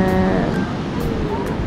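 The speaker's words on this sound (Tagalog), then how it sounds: "Medyo malakas lang yung alon." Strong ocean waves wash onto a beach in La Union as a steady, broad surf roar, with people talking over it throughout.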